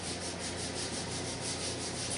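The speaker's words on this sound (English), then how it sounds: "Today I sanded the sides and it came out pretty good" Continuous close-up rubbing of sandpaper against the wooden sides of a homemade guitar body, a steady rasping hiss with even strokes throughout and no voices.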